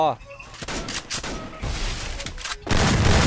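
Gunfire in the Free Fire battle royale game, with bursts of rapid shots and booming impacts that come in clusters, heavy and close, while players talk excitedly over the action.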